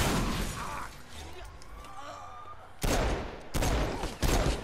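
Gunfire in the Saints Row 4 video game: after a stretch of busy game noise, several loud bursts of shots erupt, each lasting about half a second, over the constant game soundtrack.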